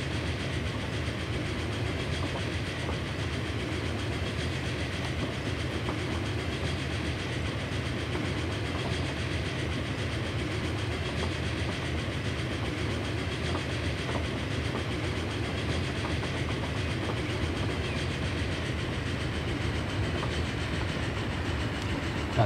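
Train rolling through a tunnel in the Transport Fever 2 game, a steady dense rumble with faint rail clatter that holds evenly and loud throughout, with no talking.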